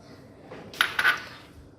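Dry tea leaves dropped into a steel pan of water while making pink Kashmiri tea, giving a brief cluster of light metallic clinks and rattles, close and fairly quiet.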